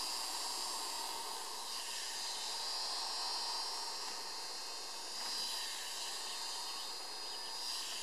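Electric clippers trim the wool of an English Angora rabbit, giving a steady, fairly quiet motor whine that runs without a break and has no speech over it.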